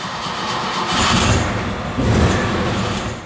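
A 1973 Alfa Romeo 2000 Spider with 150 horsepower cranks and fires, its engine swelling in two loud surges before settling into a rough, close idle.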